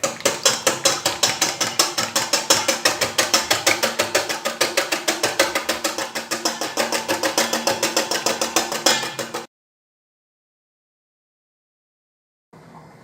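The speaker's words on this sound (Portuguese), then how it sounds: "E vou bater com fouet, porque a quantidade de clara aqui é muito pequena." Egg whites whisked by hand with a balloon whisk in a small quantity, a fast even run of rhythmic metallic clicks and swishes against the bowl, close and loud, stopping abruptly before a short silence.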